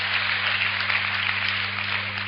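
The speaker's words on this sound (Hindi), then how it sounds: "ताली वाली बजाओ यार" Steady, dense audience clapping at a Hindi hasya kavi sammelan comedy poetry event, a continuous even wash of applause over a low mains hum throughout.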